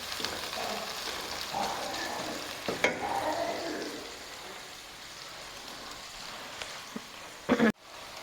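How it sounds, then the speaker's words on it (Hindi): Sliced onions sizzle and fry in a hot pan while a spoon scrapes and stirs through them, with a few sharper clatters near the end; the crackle is soft and close. "प्याज को हम बिल्कुल गोल्डन हल्का गुलाबी करेंगे।"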